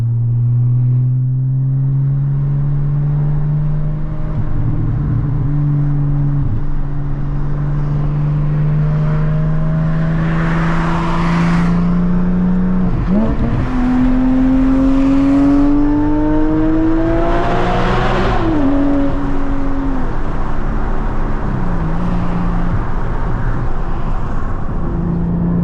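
A 2022 Porsche Cayman GT4 with a manual gearbox and Valvetronic exhaust pulls through the gears from inside the cabin, the engine note climbing steadily, dipping at each shift, then rising again, loud and sustained.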